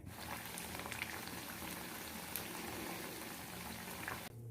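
Raw banana bajji fritters deep-fry in hot oil with a steady, dense bubbling hiss that runs unbroken and close, with no voices.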